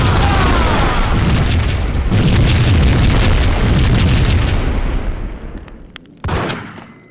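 Dense, loud gunfire and booming blasts from a Max Payne shootout, a continuous barrage that fades toward the end before one final sharp shot.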